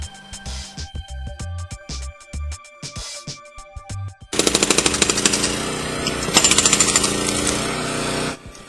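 A sharp, sputtering jackhammer pounds in bursts, then settles into a loud, continuous rapid hammering with harsh rattling noise.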